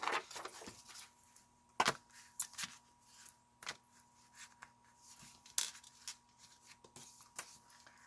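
Paper is cut with scissors in short, irregular snips and rustles, quiet and close, with a faint steady hum underneath and pauses between cuts.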